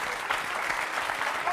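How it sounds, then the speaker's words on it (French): Studio audience applause on a French talk show, dense and loud clapping from a crowd, steady and continuous with no gaps. "on peut les applaudir très fort"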